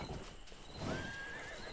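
A horse in the video game Rustler gives a short whinnying neigh, rising and wavering, over a faint thud of hooves; brief and moderately close, with no talking.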